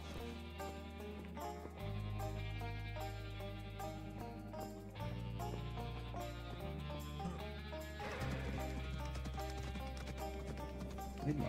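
Hooves clip-clop steadily in a video game, a horse trotting in a regular rhythm beneath a bed of game music, fairly quiet overall with no one talking.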